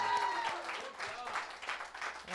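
An audience applauds a band on a talk show: a brief, fairly faint wash of clapping mixed with voices and some speech.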